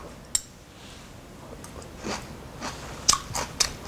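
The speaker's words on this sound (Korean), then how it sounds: "이거 한번 제가 먹어보겠습니다" Crunchy bites and chewing of Korean pickled vegetables (jangajji) in a tangy sauce, a few faint moist crunches close to the mic over a quiet room, no speech.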